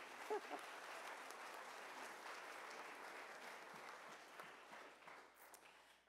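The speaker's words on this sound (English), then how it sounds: "we are going to give her another round of applause" Steady audience applause fills a meeting hall, a dense even wash of many hands clapping that holds at a constant level from start to finish with no voices on top.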